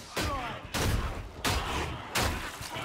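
Gunshots in the Warhammer 40,000: Darktide video game ring out as four loud, sharp shots spaced evenly about two-thirds of a second apart, each trailing into a short echoing decay.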